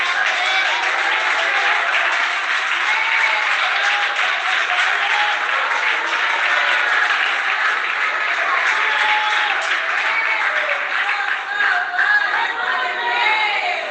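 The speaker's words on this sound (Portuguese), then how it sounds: "Pode se assentar na melhor salva de palmas para Jesus, porque ele merece." A Pentecostal church congregation gives a long, sustained round of applause during a service, dense even clapping with faint crowd voices mixed in throughout.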